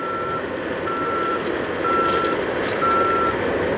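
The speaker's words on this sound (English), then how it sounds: "hear the audible alarms that let the workers around the machine know that it's in travel mode" Mobile plant machine sounding its travel-mode warning alarm: a steady series of four evenly spaced beeps, loud and close, over a constant engine rumble.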